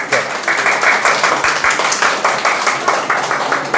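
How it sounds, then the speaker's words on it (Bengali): Schoolchildren in a government school classroom clap together for a classmate in a rhythmic, evenly spaced pattern of loud group claps that repeats steadily. "সবাই ওর জন্য একটা হাততালি দাও"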